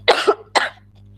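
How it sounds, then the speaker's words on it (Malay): Two close, sharp coughs from someone during an online teachers' HyperDoc sharing session, loud and near with a steady low hum behind them. "Maaf cikgu, saya batuk sikit."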